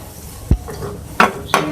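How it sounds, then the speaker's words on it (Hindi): A spoon stirs green onion in a pan with capsicum, garlic and crushed red chilli, giving three sharp clinks and scrapes against the metal over a faint sizzle, close by with no speech. "अब मैं इसमें ऐड करूंगी हरी प्याज, ठीक है, इसको मिक्स कर लें"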